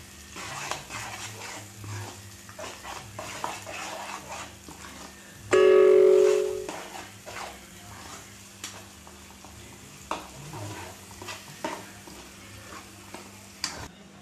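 Garlic and fenugreek leaves being stir-fried in a pan for dhaba-style lasuni methi, with a steady low sizzle and scattered scraping taps of a spoon, plus one brief louder burst partway through; no talking.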